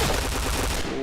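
Rapid gunfire rattles in a shooter video game during a headshot, a dense loud burst of shots lasting about a second.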